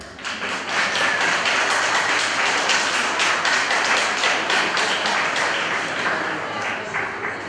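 Sustained applause from a school audience at a lower-secondary graduation ceremony, thanking the form teachers after three years, dense clapping rising quickly and holding steady for several seconds.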